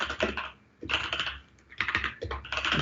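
Rapid clattering keystrokes on a computer keyboard come in dense bursts with short pauses between them, close and fairly loud, with no talking.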